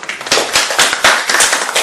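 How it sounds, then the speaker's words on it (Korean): An audience at a middle school debate contest breaks into sustained applause, a dense, loud run of overlapping claps with no voices on top. "네, 박수."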